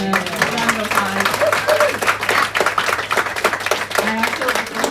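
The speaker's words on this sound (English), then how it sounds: "Can you give Darren a round of applause?" An audience gives a round of applause, steady dense clapping from a crowd lasting several seconds, with voices and a low hum mixed underneath.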